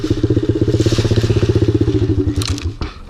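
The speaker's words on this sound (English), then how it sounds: "And I just turned my own bike off." A Honda CRF110 dirt bike engine idles with a fast, even, throbbing putter, then cuts off abruptly near the end, leaving a brief clatter and quiet.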